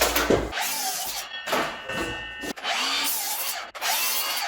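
A power saw cuts a wooden tabletop board for a bench in an apartment remodel, with three long whining cuts separated by brief pauses, loud and close.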